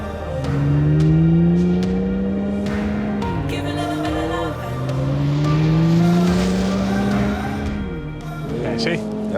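A speed record car on sand revs its engine hard during a traction test, the wheels spinning with a loud, rising and falling whine in two long surges, while people talk over it.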